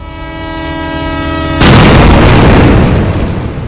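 A train at an unmanned railway crossing in Dadri blasts a loud, steady horn, then a sudden roaring rush as it thunders past close by.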